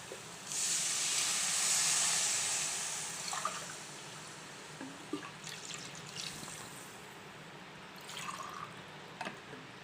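Water poured into a hot pan while making semiya upma gives a loud, steady hiss for about two seconds, then fades into soft bubbling with a few faint drips and clicks.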